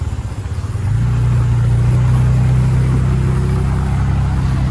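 An auto rickshaw engine runs steadily and loud in heavy rain in Titwala, a low droning hum that settles into an even, sustained tone after a brief uneven start.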